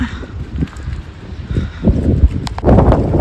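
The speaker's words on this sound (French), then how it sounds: "il y a un petit peu de vent qui rafraîchit, ça fait du bien" Wind blows on the seafront at La Union, El Salvador, facing the ocean, as a gusty low rumble buffeting the microphone with some rustling, loud and close throughout.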